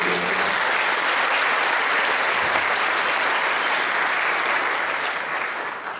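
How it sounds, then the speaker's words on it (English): Sustained applause from an audience at a health and wellness talk, dense steady clapping that fills the room at full strength before easing slightly at the end. "would you give them a round of applause for their support?"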